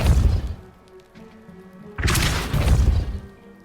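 Depulso spell cast in Hogwarts Legacy, a heavy thudding impact followed by a second forceful whoosh and crash, loud and close.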